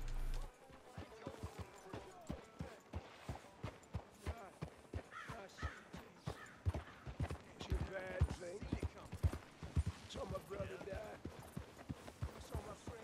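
Horse hooves galloping in Red Dead Redemption II, a fast, steady clip-clop rhythm of thuds running throughout, with a voice talking over it at times.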